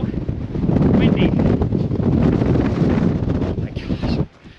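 Strong gusty wind near the summit of Wheeler Peak, New Mexico, roars and buffets the microphone in a loud continuous rush, dropping away abruptly at the end.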